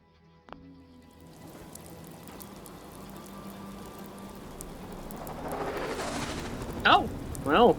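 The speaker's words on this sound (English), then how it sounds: "We'll load regular rain." Steady rain falls in Fallout 4, a broad continuous hiss that thickens toward the end, with a few sharp drips or crackles near the close and a faint low rumble underneath.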